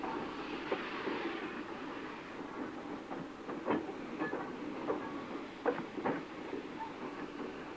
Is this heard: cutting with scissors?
no